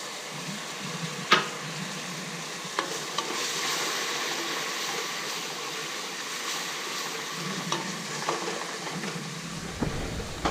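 Black soy sauce sizzles and bubbles in a hot pan while catfish braises Vietnamese-style, a steady frying hiss broken by a few clinks and stirring scrapes, close up with no talking.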